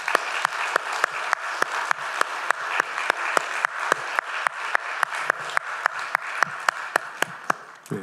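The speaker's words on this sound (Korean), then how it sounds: "여러분, 우리 교사들을 위해서 박수 한번 쳐주십시다." A church congregation at a Sunday afternoon service applauds its teachers with steady, dense clapping lasting several seconds, punctuated by sharp ticking accents, moderately loud with a roomy sound and no clear speech.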